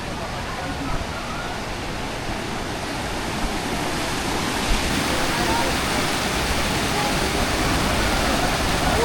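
Rushing water splashes steadily on a rapids ride at Parque Warner theme park in Madrid, a broad, continuous roar that swells slightly toward the end, with voices underneath.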